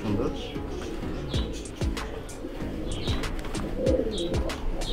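Pigeons in a loft in Bangladesh, including a single-tailed breed, cooing repeatedly in low rhythmic pulses close by, with someone talking throughout.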